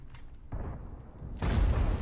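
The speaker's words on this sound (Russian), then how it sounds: "Вот это я выстрел выдаю, да?" A cannon fires from an Object 277 heavy tank in the World of Tanks game: a first rumbling blast, then a louder, heavier boom that rolls on to the end, close and without talk.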